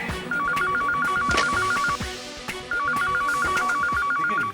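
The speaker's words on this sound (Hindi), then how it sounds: "लेकिन बेल तो बज रही है।" An old-style telephone bell rings in an office cabin in two long trilling bursts separated by a short pause, with faint clatter and room noise beneath.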